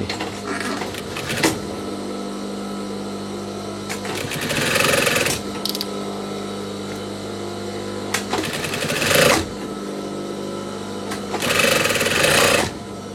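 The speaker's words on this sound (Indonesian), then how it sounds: "Kemudian kita lanjut menjahit selebar kampuh" A sewing machine stitching a seam on a denim jacket, running in several bursts of rapid mechanical whirring and clatter with quieter pauses between, close and loud.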